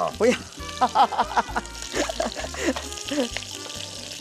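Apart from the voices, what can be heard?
shrimp frying in oil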